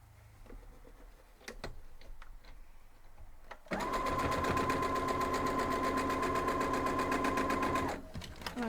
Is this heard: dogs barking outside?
no